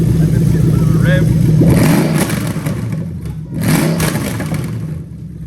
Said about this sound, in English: And let's get a bit of a rev.